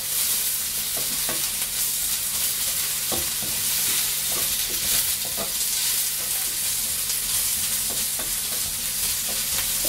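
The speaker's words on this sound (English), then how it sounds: "So you stir fry until the onions are soft" Onions stir-frying in hot oil for chicken curry produce a steady, close sizzle with scattered clicks and scrapes of a utensil stirring, continuing evenly throughout without talk.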